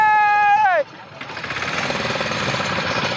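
A fishing boat engine, troublesome before it was restarted, runs steadily out on the water after a brief burst of talk, its rough chugging clatter holding constant and fairly loud.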